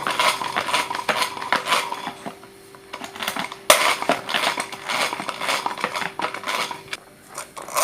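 Eggs beaten by hand in a bowl for oven-free homemade cake batter, a quick, rapid clatter of a whisk or fork against the bowl in bursts with brief pauses, close and moderately loud.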